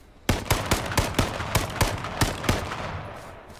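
Rapid gunfire from a first-person shooter video game, about ten sharp shots in an uneven burst over three seconds, loud and close, then tailing off into quiet.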